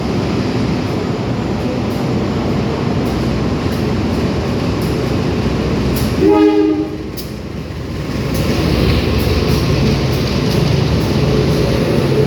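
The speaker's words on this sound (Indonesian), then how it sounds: "kereta api Kamandaka bertemu dengan kereta api Kaligung" The Kaligung train passes the Kamandaka train, heard from on board with a loud steady rumble and wheel clatter, then a long train horn blast midway before the rolling noise resumes.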